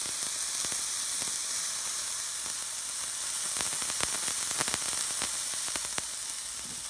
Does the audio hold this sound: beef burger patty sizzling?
yes